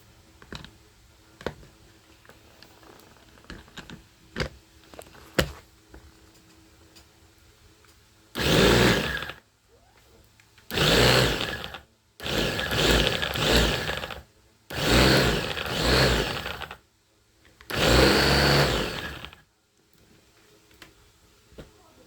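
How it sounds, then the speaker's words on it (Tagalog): An electric blender blending parsley with a little water whirs in five short bursts with pauses between them. Quieter clicks and knocks come before the bursts begin. "Blender tayo ng parsley."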